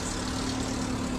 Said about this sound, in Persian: صدای ناهنجار اگزوز